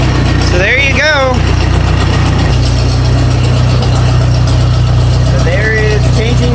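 A 1955 Ford 850 farm tractor engine idles with a loud, steady low rumble throughout, its pitch dropping slightly midway, while someone talks briefly over it.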